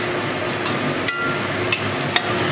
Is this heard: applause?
no